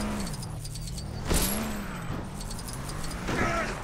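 A small jeep in LEGO Jurassic World drives along with a continuous low engine hum that rises and falls in pitch, punctuated by a couple of clanking impact bursts.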